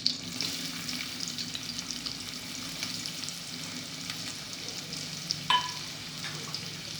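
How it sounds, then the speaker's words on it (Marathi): Finely chopped onion sizzles in oil in a pan for a rustic sandage curry, a soft continuous frying hiss with a few light utensil knocks, fairly quiet and free of speech. "आणि याच्यामध्ये आता आपण बारीक चिरलेला कांदा टाकणार आहोत."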